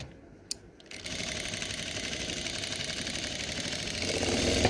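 A sewing machine stitching fabric runs steadily after a brief click, its rapid mechanical whir close, continuous and growing slightly louder.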